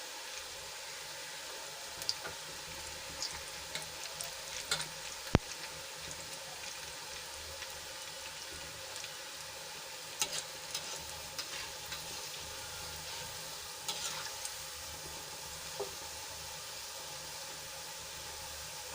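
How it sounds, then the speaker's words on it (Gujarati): Kumbhaniya bhajiya fritters deep-frying in oil over a low flame give a steady, soft sizzle and hiss throughout, with occasional small pops and crackles, heard alone. "આપણા ભજીયાને તળાતા વાર નહીં લાગે, થોડી જ વારમાં ગોલ્ડન બ્રાઉન થઈ જશે"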